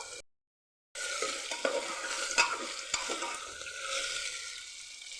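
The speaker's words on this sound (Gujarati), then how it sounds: "અને બટેકાનો વઘાર કરી દઈશું" Potatoes are added to a hot tempering of cumin, cinnamon, cloves, dried chillies, curry leaves and asafoetida and stirred, opening with a brief gap, then a loud continuous sizzle with spoon scrapes and knocks against the pan.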